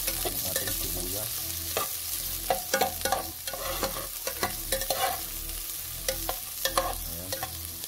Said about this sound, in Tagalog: Haluin lang natin para hindi ano, matunog yung ating sibuyas.